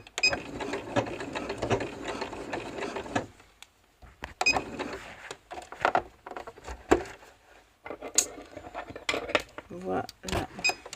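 A domestic sewing machine stitches piping onto a thick winter coat, running in bursts of mechanical whirring and clatter with pauses between runs; a voice talks intermittently nearby.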